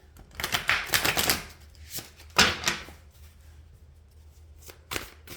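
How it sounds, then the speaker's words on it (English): A deck of tarot cards being shuffled by hand, with bursts of rapid riffling clicks and flutters, close and fairly loud, followed by quieter scattered card taps. "I just feel like I need to shuffle really good right now."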